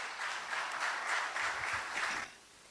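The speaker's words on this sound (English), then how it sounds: "Please give him a round of applause." A crowd applauding at a chamber of commerce crime symposium in San Fernando: soft, somewhat distant sustained clapping that swells briefly and then stops abruptly, leaving near silence.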